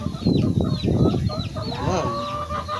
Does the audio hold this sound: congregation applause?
no